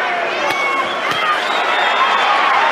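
A boxing arena crowd roars and cheers during a Floyd Mayweather versus Juan Manuel Marquez fight, a loud, continuous swell of massed voices with a commentator talking over it.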